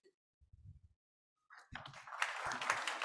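An audience at a conference panel on sustainable innovation breaks into applause after a few faint thumps, a dense wash of clapping that rises quickly and holds steady to the end.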